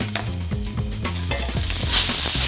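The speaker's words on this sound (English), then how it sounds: "So we're gonna put this back over to dry ice" A hot, freshly seared steak pressed onto dry ice, giving a loud, continuous hissing sizzle with squealing, wavering tones throughout.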